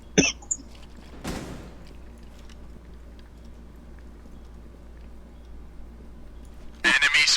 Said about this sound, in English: I'm gonna cry because I'm coughing so much.